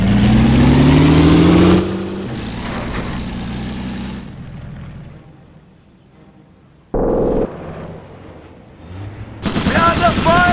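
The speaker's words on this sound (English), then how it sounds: "We are under fire!" Battle noise in Company of Heroes, loud rumbling gunfire and engine roar at the start, fading into quieter stretches before another sharp burst and renewed heavy firing at the close, with voices heard between.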